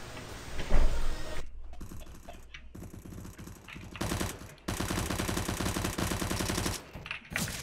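Rapid automatic gunfire bursts from a CS:GO competitive match, loud mechanical clattering volleys with brief gaps, preceded by a shorter burst and game ambience.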